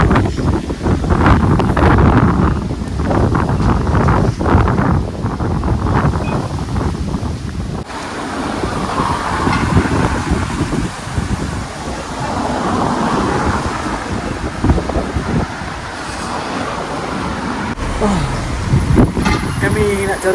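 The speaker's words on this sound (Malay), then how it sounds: "Agak sejuk kat sini serius dengan angin ni kan. Angin daripada lautan Atlantik." Strong Atlantic Ocean wind buffets the microphone on the coast at Sligo, Ireland, a loud continuous roar and rumble throughout with occasional gusts, and a voice talks over it.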